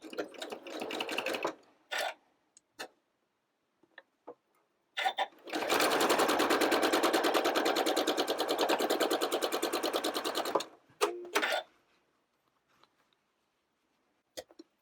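A sewing machine stitches quilt block patches for a Hopscotch block, starting with short bursts and then a long steady run of rapid needle strokes, close and clear, ending in a few brief bursts.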